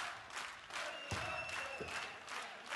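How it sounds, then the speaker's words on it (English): Crowd at a professional darts match during the 2016 Austrian Darts Open cheering and applauding, a steady broadband roar of clapping and excited voices with brief louder bursts, moderately loud throughout. "The crowd getting a bit excited now."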